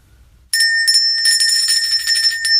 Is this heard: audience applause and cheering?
no